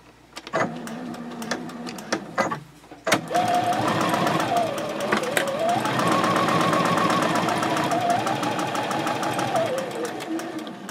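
A DX4000 QVP Kokochi sewing machine sews a fabric basket seam, with short bursts of motor whine for backstitching followed by a long steady run of rapid stitching, close and clear, with the pitch rising and falling as speed changes.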